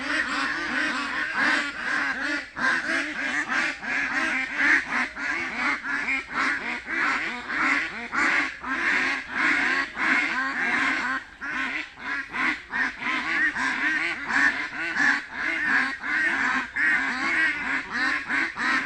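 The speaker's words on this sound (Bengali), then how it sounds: "হাঁসে এত কেন ডাকাডাকি করতেছে?" A flock of domestic ducks quacking loudly and without pause, dense overlapping calls close by that rise and fall in bursts for the whole stretch.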